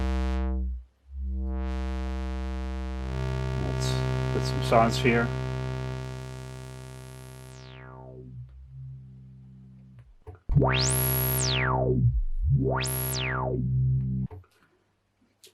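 Sustained, buzzy analogue synth tones change pitch, then resonant sweeps of a 24 dB low-pass filter rise and fall sharply twice near the end. A voice speaks briefly over it.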